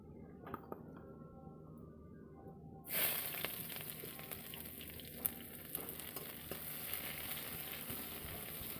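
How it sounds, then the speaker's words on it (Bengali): Chopped onions dropped into hot oil with cumin in a pan: a quiet start, then a sudden loud sizzle that keeps hissing steadily, with a few light clinks of utensils. "পেঁয়াজগুলো একটু হালকা ভেজে নেব"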